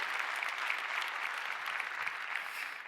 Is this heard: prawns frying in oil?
no